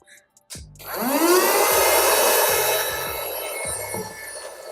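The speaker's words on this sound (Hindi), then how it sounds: "वैक्यूम देखो आगे से यहाँ से हवा खींचती है" A small budget handheld vacuum cleaner switches on after a short pause and runs steadily close by, its whining motor hum rising quickly and holding loud with slight shifts in pitch as it sucks air.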